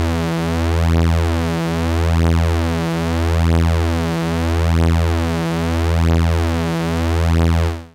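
A Cherry Audio SEM software synth holds a steady tone with its second oscillator detuned, so the sound swells and fades in a slow, regular beating pulse. It is loud and constant, with no voices.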